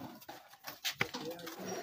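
A pigeon on a Punjab rooftop coos softly among scattered taps and light background noise, with faint, intermittent calls rather than a loud, steady call.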